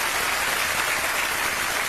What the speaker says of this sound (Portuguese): Um aplauso poderoso para o nosso Rei.